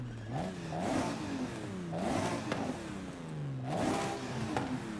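A BMW engine in Forza Horizon 5 revs hard toward its redline, rising and falling in loud repeated pulls with climbing whine and brief dips between.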